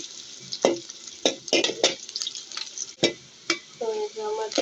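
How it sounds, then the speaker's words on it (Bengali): Onions with garlic fry in a pan while being stirred for a rohu fish and bottle gourd curry, a steady close sizzle broken by sharp utensil scrapes and clacks. "তো আমি এখন পেঁয়াজটা ভালোভাবে ভেজে নেব।"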